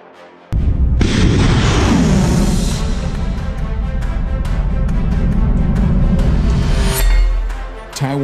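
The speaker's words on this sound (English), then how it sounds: "Taiwan fire missiles to simulate the China missile preps all-out war" Taiwanese missile test launch: a sudden loud roaring blast that sustains as a heavy rumbling rush for several seconds, then tails off with a final swell, with no talking.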